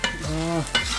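Onions that have turned nicely brown frying in a pan, a steady sizzle broken by a couple of scraping stirs and a short tonal squeak in the middle, nobody speaking.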